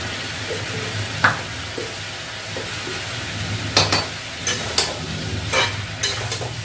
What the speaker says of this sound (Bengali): আমি ঢাকা দিয়ে দিয়ে ভাজবো, যাতে আলুটাও ভাজা হয় আর সেদ্ধ হয়ে যায়